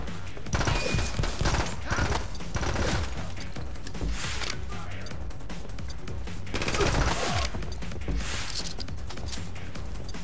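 Sustained bursts of Uzi submachine-gun fire in a video game, loud and close, with clusters of rapid shots, crashing impacts and mechanical clatter running throughout.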